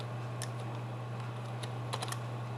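Quick keystrokes on a computer keyboard, a scattered handful of light clicks with a short cluster near the end, close by and over a steady electrical hum, with no talking.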